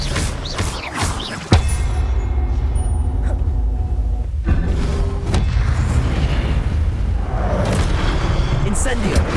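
Spell combat in the Hogwarts Legacy video game, with the Expelliarmus disarming charm cast amid booming, explosive magical impacts and rumbling effects that run loud and dense throughout, while a voice calls out over the din.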